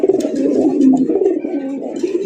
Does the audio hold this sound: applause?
no